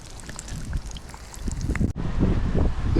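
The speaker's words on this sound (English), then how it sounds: "To show you how hard that wind is blowing around here." Strong outdoor wind gusts among trees, roaring and buffeting against the microphone in a low, rumbling rush that briefly drops out before surging back.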